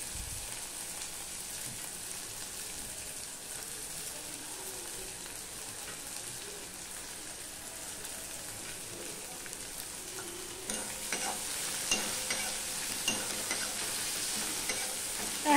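Chopped onion sizzles in hot oil for a tempering, alongside green chilies and garam masala, a soft steady crackle with occasional stirring that grows busier and louder toward the end.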